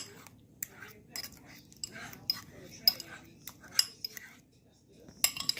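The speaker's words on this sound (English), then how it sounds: "that's me scrambling up the eggs" Eggs are scrambled with a utensil in a microwave-safe dish, giving light, irregular clinks and scraping taps against the dish, quiet and close.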